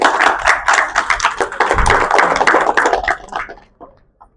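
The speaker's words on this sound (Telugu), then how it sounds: "చప్పట్లు గట్టిగా." Crowd at a Telugu political gathering clapping loudly and quickly in a dense burst for about three seconds, then tapering off to a few separate claps.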